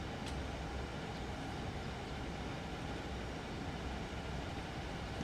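A Southeastern high-speed train in Train Sim World 2 runs along the track with a steady, low rumbling drone and faint rolling noise, no speech.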